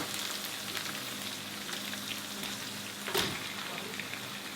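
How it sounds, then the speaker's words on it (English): Garlic, ginger and onion sizzle steadily in a hot pan for an Indian chicken curry, a constant close hiss broken by one brief clatter partway through. "While that's just sizzling"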